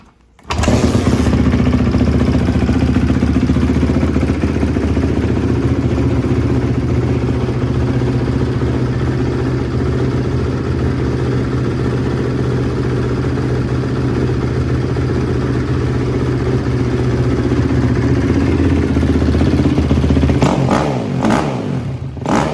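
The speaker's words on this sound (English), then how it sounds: "We're gonna do a cold start," A 2005 Honda CRF250R motorcycle fires up from cold and settles into a loud, steady idle close by, its engine droning evenly for about twenty seconds before a few clattering blips and a cut near the end.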